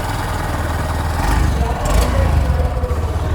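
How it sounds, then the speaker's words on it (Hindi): A Honda SP125 motorcycle engine running steadily with a low, even hum, with a brief rise in intensity midway; no talking. "ये इसके इंजन का साउंड है"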